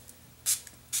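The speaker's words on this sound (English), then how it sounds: "spray in a heat protectant" Two short hissing bursts of an aerosol heat-protectant hair spray, close to the microphone, spaced about half a second apart, with a faint puff between them.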